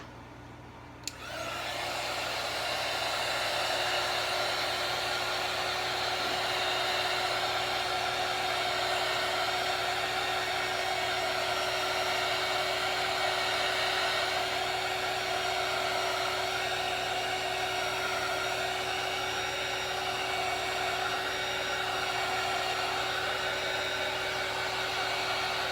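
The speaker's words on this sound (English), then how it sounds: "Now I'm gonna hit it with my heat gun" Heat gun switching on and blowing hot air over a magenta painted canvas, a loud, steady high-pitched whine with airy roar that holds constant and close for the whole stretch.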